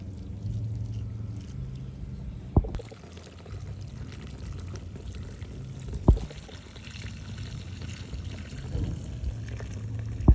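Hot pickling brine is ladled from a boiling pot over cucumbers in a container, making soft liquid pours and splashes with a few sharp knocks of the ladle against the pot, close and fairly quiet.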